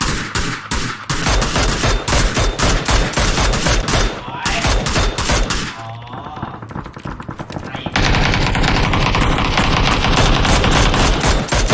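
Rapid automatic gunfire in PUBG as players shoot at a jeep, loud, dense bursts of shots in quick succession with brief pauses, a voice speaking over them.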